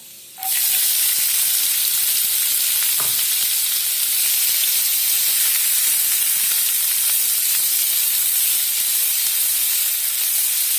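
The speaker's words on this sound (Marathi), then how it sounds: "जिरे चांगले फ्राय झाल्यानंतर 1 मोठा बारीक चिरलेला कांदा" Finely chopped onion drops into hot oil already frying with cumin seeds, setting off a sudden loud, steady sizzle that holds strongly and evenly to the end.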